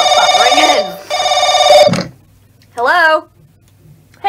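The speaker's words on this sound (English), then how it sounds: "Is that phone not buzzing in?" A phone rings in The Crooked Man video game, two long loud electronic trills with a short gap between them, followed by a brief voice.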